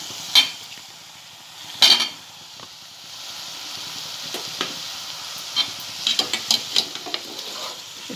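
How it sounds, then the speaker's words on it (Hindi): Potatoes tumbling into a pan of spiced aubergine curry, followed by scraping stirs with a spoon and a steady low sizzle, with occasional sharp clinks of utensil against the pan. "अब मैं इसमें बटाटे भी डालूंगी।"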